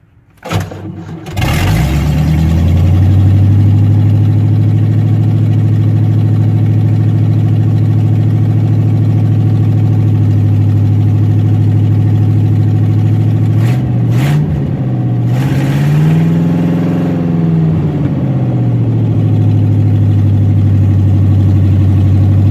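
An engine cranks and catches, then settles into a loud, steady idle close by, with a brief rise and fall in revs partway through and no talking.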